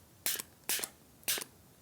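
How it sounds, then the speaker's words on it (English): A spray bottle mists water onto wet watercolour paint in three quick, evenly spaced spritzes, each a short airy hiss, close and quiet with near silence between. "Spray a little bit more."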